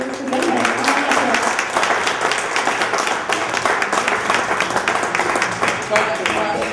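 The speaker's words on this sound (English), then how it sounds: "let's give him a round of applause" A live audience claps for a poet at a reading, with close, sharp individual claps running steadily for several seconds and faint voices mixed in.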